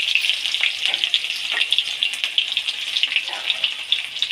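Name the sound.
frying cardamom, cinnamon, dried chilli, bay leaf and chopped onion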